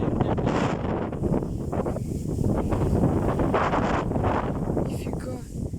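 Strong storm wind in an open field, gusting around 23 m/s, roars and buffets the microphone in a constant heavy rush, with a person talking over it.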